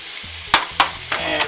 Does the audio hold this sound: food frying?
yes